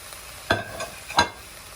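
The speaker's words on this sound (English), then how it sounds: "All right, here I'll add tomato." Tomatoes go into a hot pan for a tomato sauce, two short bursts of sizzling and scraping about half a second apart as they are stirred, close and moderately loud over a quiet background.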